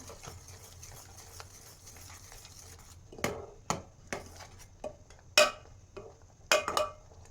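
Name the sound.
stirring dal mixture in a pot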